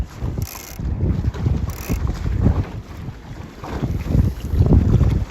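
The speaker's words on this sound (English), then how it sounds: "Just a bit of gust here." Wind gusts roar over the microphone while sailing a dinghy, with choppy, fluctuating buffeting and some water and hull noise underneath, loud and close throughout.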